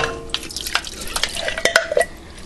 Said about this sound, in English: this is our canned pork, and yes, I'm going to go ahead and just put the whole thing in there. Liquid, meat, and all